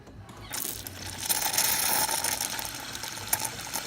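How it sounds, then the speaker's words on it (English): A Jura espresso machine's frothing mechanism sucks up water during a leak-repair test, giving a continuous gurgling, rattling slurp that holds at a moderate level for a few seconds. "You can see it sucks the water nicely."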